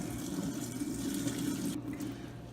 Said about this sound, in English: we're gonna go ahead and pour it out